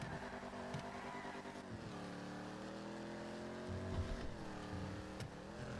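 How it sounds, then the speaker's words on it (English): Engine drone of a custom 2024 Dominator styled like a 2024 Mustang GT, driven in a video game, holding a steady rumble with slight pitch shifts as it shifts and accelerates, heard alone. "This is a custom car that we added. It's a 2024 version of the Dominator."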